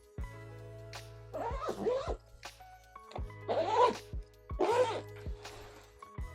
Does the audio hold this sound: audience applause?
no